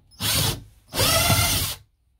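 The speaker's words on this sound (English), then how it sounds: "This wee drill just works like any other drill." A small 12-volt cordless drill whirring in two bursts, a short spin followed by a longer one of about a second, loud and close with a clean stop and no talk.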